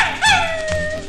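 A dog on a mid-1960s Rocking Horse children's record gives a single short howling yip that rises and then trails off, clear and close.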